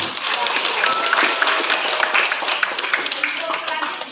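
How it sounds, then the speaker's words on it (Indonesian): Students in a classroom give a sustained round of applause after their project presentations, a dense patter of clapping throughout with voices underneath. "Sekali lagi beri tepuk tangan untuk kalian semua."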